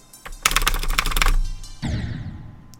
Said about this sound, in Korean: 연타는 키보드지